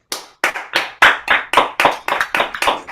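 A round of applause for a performer at a virtual open mic comes from a single pair of hands clapping close by, about ten sharp claps in a steady, slightly uneven rhythm with no other sound.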